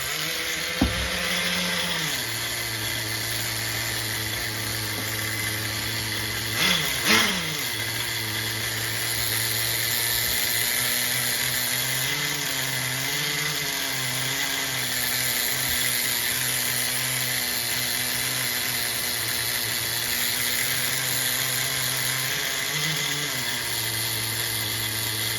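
The nitro engine of an HPI MT2 RC truck runs while being tuned, a steady high buzzing whine held close, with a couple of brief throttle blips partway through.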